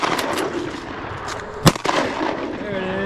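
A shotgun fires once during a Texas duck hunt on the water: one sharp, loud blast with a brief echo tail, set against outdoor wind noise.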